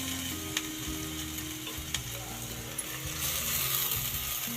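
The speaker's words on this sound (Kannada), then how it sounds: "ಈಗ ಸೊಪ್ಪು ಹಾಕ್ತಾಯಿದ್ದೀನಿ." Red amaranth greens frying in a pan with green chillies, a steady crackling sizzle running throughout with occasional sharp clicks of a utensil.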